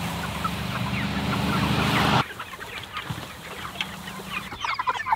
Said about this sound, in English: I'm gonna move these chickens again, and let's see which one ate the most grass.